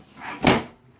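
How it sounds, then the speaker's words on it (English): Drawers of a mechanical Rubik's cube table slide open in one brief wooden scrape and knock, peaking midway through and fading quickly. "the drawers open"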